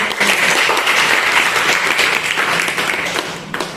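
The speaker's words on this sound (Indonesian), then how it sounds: "berikan aplaus dulu untuk" A classroom group applauds, a dense, even wash of many hands clapping up close that tapers off toward the end.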